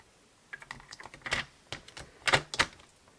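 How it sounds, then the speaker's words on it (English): A paper trimmer slicing through card while making a hand-stamped panel bag: a quiet run of close, dry clicks and brief scraping strokes, heard alone without talk. "So I'm going to grab my trimmer. And I'm going to cut off an inch,"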